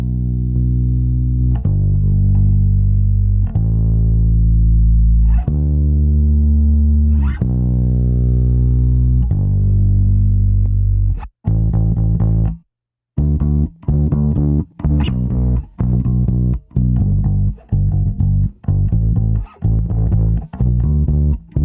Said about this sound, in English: So it's a really cool distortion.